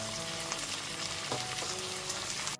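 Sauce hits onion and capsicum frying in a pan for chilli chicken, and a steady loud sizzle runs throughout with a few stirring scrapes, no voices.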